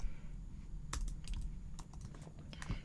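Quick, uneven keystrokes clatter on a computer keyboard in bursts against a quiet room hum, close and fairly soft, with no talking.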